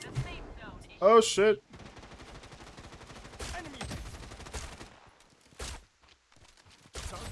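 Gunfire in the shooter Project Blood Strike, with loud bursts of rapid automatic shots near the start, then sustained chatter of distant fire and a few sharp single cracks later, while a player speaks briefly over it.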